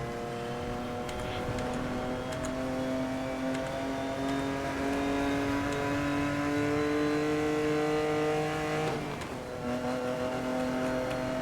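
A car engine in Need for Speed: Most Wanted (2012) holds a steady, tonal drone and rises in pitch as it accelerates. A short shift or dip comes near the nine-second mark, with no talk over it.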